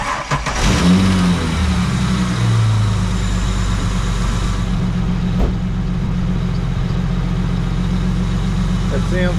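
A cold Holden VY V6 engine, fresh from a spark plug change, cranks and catches, then settles into a steady, loud, close idle with a low rumble.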